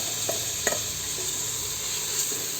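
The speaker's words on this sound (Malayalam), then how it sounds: "നന്നായിട്ടൊന്ന് ഇളക്കി യോജിപ്പിച്ച് കൊടുക്കാം" Jeera rice being stirred through a sizzling pan while a vegetable biryani comes together, with a steady hot fry hiss and a few soft scrapes of the spoon, close and alone without talk.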